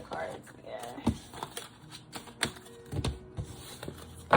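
A large, hard-to-handle deck of cards is shuffled in a series of sharp riffles and clicks, close and fairly quiet, with soft whispery voices murmuring in between.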